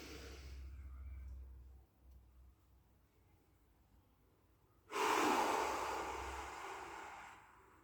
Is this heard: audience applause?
no